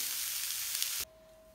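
Fenugreek-leaf curry simmers on a low flame with a brief, close sizzle lasting about a second before it cuts off to near quiet and a faint steady hum.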